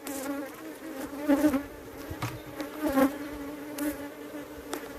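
Honeybees buzzing around an opened hive, a dense, close, continuous drone with tones that swell and fade as individual bees pass near.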